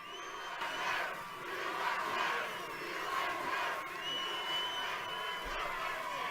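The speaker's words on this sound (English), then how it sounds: "This is quite a crowd." A large crowd at a Trump rally in Bullhead City, Arizona roars and cheers in sustained swelling waves, with shouts and whoops rising across the whole stretch and no clear speech on top.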